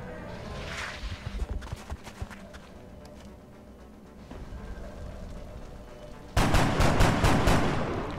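Bursts of rapid gunfire from reaction shots in the turn-based strategy video game XCOM: Enemy Within, scattered volleys that build into a loud, sustained barrage near the end.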